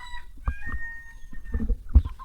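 Chickens in a Thai village cluck and squawk close by, several short bursts of hen calls with a rooster-like cry, set against quiet outdoor ambience.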